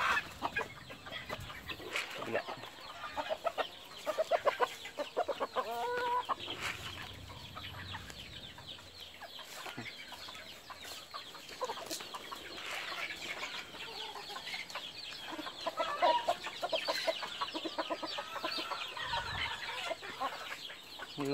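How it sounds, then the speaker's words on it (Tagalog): Several chickens cluck and murmur continuously close by, with scattered pecking and rustling sounds throughout. "Ayan o, manok."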